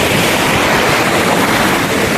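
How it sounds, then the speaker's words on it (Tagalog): Strong sea waves surging in at high tide off a beach in Tangalan, Aklan, heard as a loud, continuous wash of surf and churning water with wind buffeting close by. "ang lakas ng alon ngayon. High tide yata, high tide."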